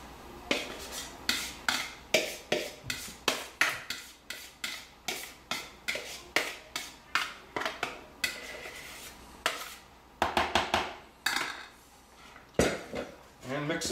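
A spoon clinks and scrapes rhythmically against a bowl as liquid and dry gluten-free energy bar ingredients are mixed, with dozens of close, crisp knocks in a steady beat that turns briefly irregular toward the end.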